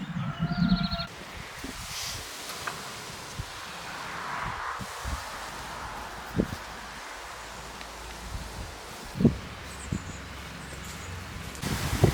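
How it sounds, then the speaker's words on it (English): Gusty wind buffeting outdoors in a garden, a broad rushing noise with rustling, occasional bumps and a stronger gust near the end. "It's really windy now."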